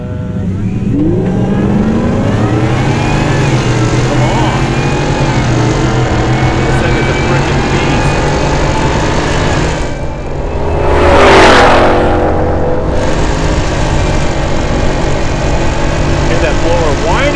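A Hennessey VelociRaptor V8 truck in four-wheel drive launches from a standing start, its engine roaring loud and close as it climbs through the revs, with a brief lull and a surge of wind-like rush partway through.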